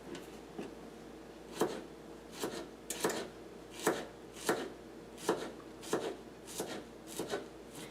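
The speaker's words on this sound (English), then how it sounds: "And then we're just going to slice." A knife slices through eggplant on a cutting board for pasta alla Norma. About ten crisp, fairly loud chops land at a steady, unhurried pace, with no talking.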